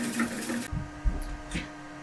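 Motorised film bench winding a film reel at high speed: a brief whirring mechanical rush with a steady hum, then cut off, leaving soft clicks and handling knocks.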